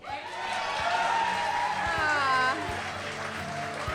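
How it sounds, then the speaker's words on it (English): Audience applause at a green building slam evening event, broad clapping with some cheering that swells and holds steady for a few seconds, with voices mixed in. "How about a round of applause for Katie?"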